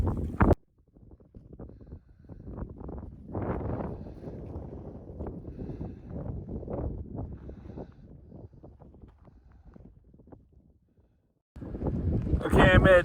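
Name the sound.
strong wind at Nido de Condores, Aconcagua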